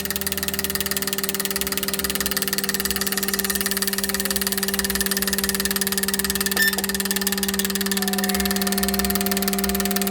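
An engine idles steadily during a fuel injector test, a constant mid-pitched hum with a faint rhythmic pulse and strong tonal drone, unchanging throughout and close by.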